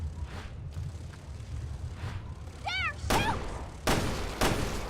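Gunfire in Resident Evil: Revelations 2, with a few sharp, loud shots near the end that land a second or so apart. Softer game ambience sits underneath and a voice yelps briefly.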